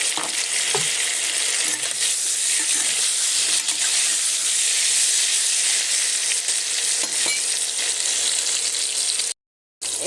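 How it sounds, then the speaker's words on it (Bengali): Pointed gourd (potol) frying in hot mustard oil with turmeric gives a loud, dense, continuous sizzle that spits throughout, cutting out for a brief moment near the end. "পটলগুলো ভালো করে ভেজে নেব।"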